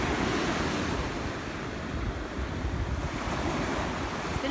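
Ocean surf rolling onto a Malibu beach, a steady loud wash of breaking waves with wind buffeting the microphone throughout and no voices.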